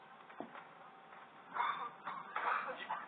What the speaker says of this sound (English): So we cough now because of the toilet being disgusting.